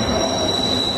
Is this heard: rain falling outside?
no